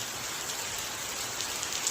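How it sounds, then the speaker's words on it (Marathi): Heavy rain pours down in a steady, dense hiss that stays loud and even throughout, with no voices over it. "बघा पाऊस बघा गाईज किती पडते"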